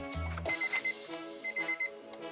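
A car alarm chirps in a fully built turbo Honda Civic, two quick bursts of four rapid beeps separated by a short pause, close and clear with no talk.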